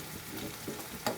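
Finely chopped green chili with crushed ginger and garlic sautés in a pan for a Gujarati gunda shaak, giving a soft, steady sizzle broken by a few light stirring scrapes.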